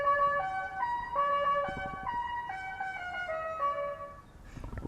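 A Tesla Model 3 custom horn plays the La Cucaracha tune as a quick run of loud, bright electronic tones, with a short noisy burst at the very end.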